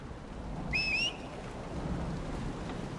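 A thunderstorm with rain in the video game Dragon Age Inquisition gives a steady low rumble and wash of rain, with a brief high whistling tone early on.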